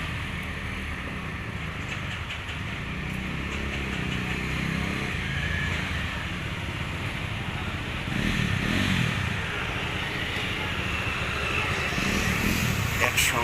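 Around twenty touring motorcycles setting off one after another, a continuous rumbling drone of engines at mid distance with surges as bikes pass, with people talking over the noise.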